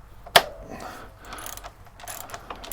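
A sharp metallic clack opens, then soft mechanical clicks and scraping as the wheel axle of a BMW R1200 GSA motorcycle is tightened and drawn through the hub, close and fairly quiet.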